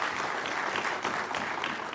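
Audience applause greets a guest at a public lecture in Ghana marking the DVLA's 25th anniversary, a steady, dense clapping from a sizable crowd that holds for the full two seconds with no voice over it.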